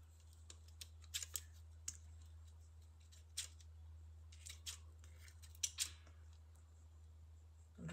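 Scissors snipping the whiskers off prawns, a scattered series of faint, crisp little clicks and snips over a steady low hum, irregularly spaced and fairly close.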